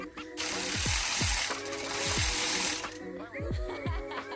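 Mechanical ratcheting and whirring while a bolt is worked loose from a 1967 VW Type 3 Squareback 1600cc engine during disassembly. The bursts are repeated and close, with steady broadband grinding between them.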